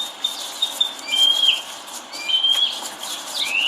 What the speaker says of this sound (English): Oh, those birds are like, you paid them well, didn't you, Naomi?